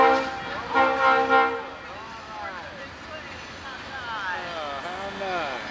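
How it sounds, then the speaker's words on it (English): A train horn blares in a few loud tones at the start, then people talk excitedly over a quieter rumble in the background. "Choo choo and a honk."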